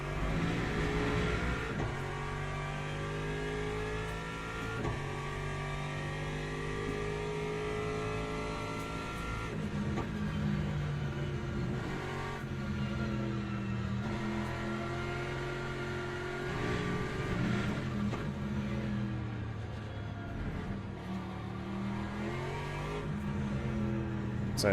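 A hypercar engine in a racing video game, a steady mechanical drone with repeated rising revs and gear changes, sustained and fairly close throughout.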